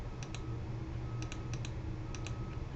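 Keys are pressed on a TI-89 graphing calculator in a few quick soft clicks, paired and faint, over steady background hiss.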